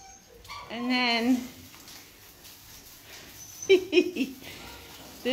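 Black Labrador puppy at an animal shelter whimpering and yelping in a few short high-pitched bursts, near and fairly loud, with quieter background noise between the cries.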